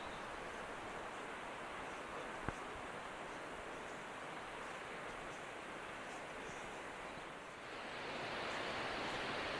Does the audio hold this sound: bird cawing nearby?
no